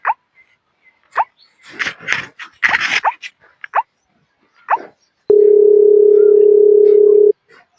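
A few short dog-like yelps and rustles, then a steady, loud electronic ringing tone holds for about two seconds.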